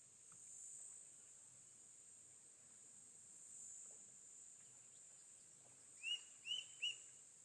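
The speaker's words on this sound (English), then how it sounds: "Now this whistle, I think that's a white-crowned shrike." White-crowned shrike giving three short whistled calls near the end, faint against a steady insect drone at a waterhole in Etosha.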